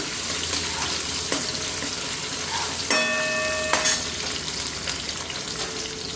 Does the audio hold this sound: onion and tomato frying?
yes